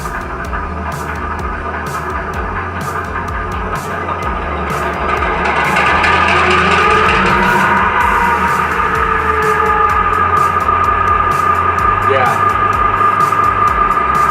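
A TCS WOW sound decoder in a G scale locomotive powers up, its rumbling diesel-style idle swelling louder about five seconds in and then holding steady, with a pulsing low throb and bright tonal whine layered over the engine noise.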